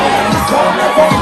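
A crowd cheers and shouts as political candidate Ali Bongo arrives at a street rally in Gabon, a loud, dense mass of voices and whoops up close.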